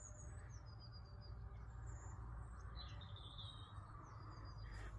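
Faint birdsong with scattered chirps and trills over a steady low outdoor rumble at a caravan park in Leven, Scotland, no voices.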